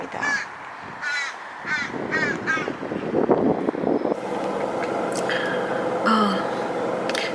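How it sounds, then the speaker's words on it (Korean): Several crows caw loudly outdoors in short repeated bursts, some near and some farther off, over wind noise, with a person talking partway through. "요란한 새소리가 들립니다."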